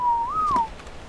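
A single in-game whistle command from ARK Survival Evolved: a clear, pure tone that holds steady, bends upward, then settles back, lasting about half a second, loud and alone with no talk.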